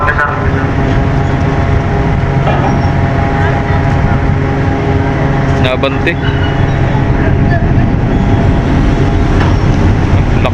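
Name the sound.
ship's large engine running while manoeuvring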